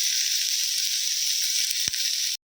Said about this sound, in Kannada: ಆನಿಯನ್ ಅಲ್ಲಿವರೆಗೂ ಫ್ರೈ ಮಾಡ್ಕೊಳ್ಬೇಕು